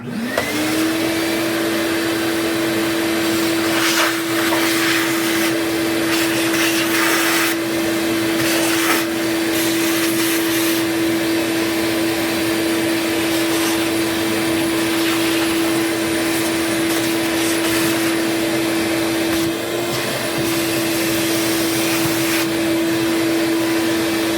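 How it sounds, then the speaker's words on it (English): Vacuum cleaner used inside a PS5 console during overheating repair, a loud steady whine with a constant pitch that runs the whole time and shifts slightly in airflow noise as the nozzle moves. "We're going to start with the vacuum."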